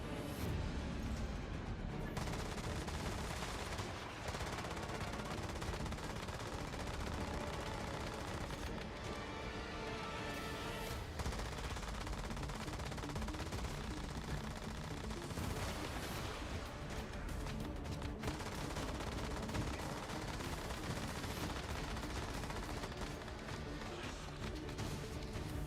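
Dense, continuous gunfire from a gun in the video game Once Human, loud and sustained with rapid repeated shots and booms layered throughout, no pauses.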